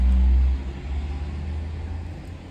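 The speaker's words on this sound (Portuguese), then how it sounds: "Agora um caminhão tá passando, peraí." A truck passing on a nearby road gives a heavy low rumble that is loudest at the start, then settles into a steady engine drone, with no talk over it.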